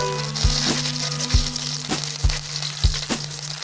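Curry leaves sizzle in hot oil with popped mustard seeds for a simple coconut gravy, giving a steady frying hiss broken by about five sharp stirring knocks and crackles, close and alone.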